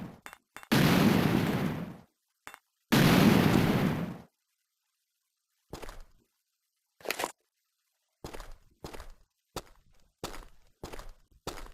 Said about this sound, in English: Look out! Grenade!